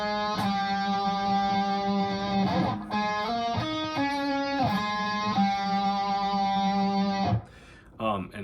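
Distorted electric guitar plays the main riff of a song, loud sustained chords with shifting notes in a repeating pattern, alone without talk until a brief stop at the end.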